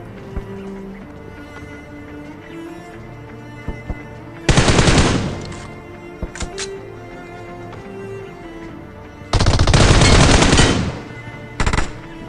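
M416 and DP rifles fire in a video game in two loud sustained automatic bursts and a shorter burst, each cutting through a quieter background of game ambience.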